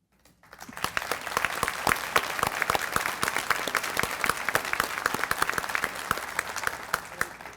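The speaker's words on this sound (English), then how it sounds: "could you please stand for a round of applause?" Applause from a breakfast audience honoring association members, starting from silence and swelling into sparse, crisp individual claps that stay moderately quiet and steady.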